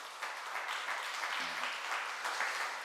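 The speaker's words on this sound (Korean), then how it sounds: "우리 환영의 박수 좀 드리도록 하시죠." Warm applause from a church congregation greeting two visiting guests, a steady patter of many hands clapping at moderate distance, continuing evenly for a few seconds with no talking.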